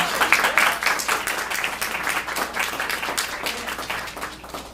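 Audience applause after a poetry performance, many hands clapping in a loud, continuous burst that eases slightly toward the end.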